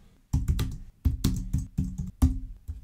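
Quick bursts of clicky keystrokes on a computer keyboard, close and crisp, come in short clustered runs with brief pauses between them while entering values in Excel VBA code.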